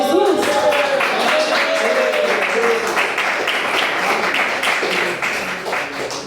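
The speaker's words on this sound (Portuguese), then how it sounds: "glorificar o Senhor com as palmas bem alegre para Jesus" A church congregation claps along joyfully in praise, loud rhythmic hand claps from many people filling the room, with a voice singing or calling out over the first few seconds before the clapping carries on steadily.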